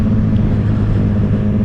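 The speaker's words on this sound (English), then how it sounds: "I can actually hear what the bike sounds like now." A loud, steady engine drone from a Triumph Street Triple 765 RS motorcycle fitted with an aftermarket SC Project exhaust, its deep exhaust rumble holding a fairly constant pitch with a slight rise and fall in revs.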